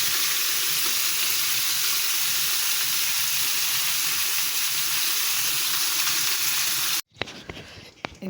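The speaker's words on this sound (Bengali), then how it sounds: "আমি মাছ আর মিষ্টি কুমড়া দুইটাকেই ভেজে নিব লাল লাল করে" Fish and sweet pumpkin pieces fry in hot oil, a loud, even, close sizzle that holds for about seven seconds before cutting abruptly to quieter crackling and clatter.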